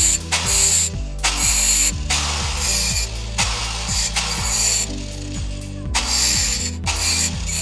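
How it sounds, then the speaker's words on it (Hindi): A grinder shapes small metal pieces for a handheld tray build, a loud close grinding rasp running continuously with rhythmic surges and slight pitch shifts as the metal is worked. "उसके बाद मैं ग्राइंडर से इन्हें थोड़ी सी इनकी सेटिंग कर देता हूँ ताकि ये थोड़े से खूबसूरत लगे।"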